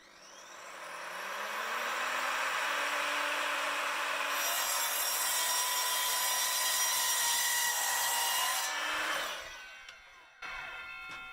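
An Evolution F255SMS mitre saw cuts through wood, a loud, steady high whine that spins up, holds through the cut for several seconds, then winds down with a brief clatter at the end.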